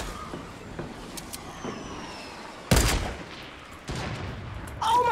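Gunfire rings out in the Fortnite battle royale video game, with a loud burst of shots in the middle and further sharp reports following, set against quieter game ambience.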